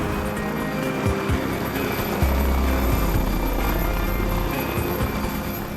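Helicopter coming in to land into the wind, a loud steady rotor and engine roar with a low throbbing beat, close and continuous throughout, no talk.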